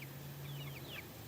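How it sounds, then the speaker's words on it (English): Backyard chickens in the evening, several soft clucks and short calls close by over a steady low hum, with no talking. "The chickens make all kinds of noises."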